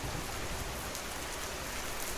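Heavy rain pours steadily in a village, a dense, continuous hiss of drops striking surfaces, loud and unbroken throughout.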